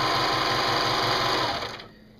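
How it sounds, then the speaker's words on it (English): A serger stitches the side seam of a t-shirt with a steady, fast mechanical whir and rapid rhythmic pulsing, running loud and close before slowing and stopping near the end. "and we're going to serge that side seam."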